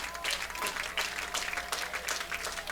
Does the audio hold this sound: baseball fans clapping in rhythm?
yes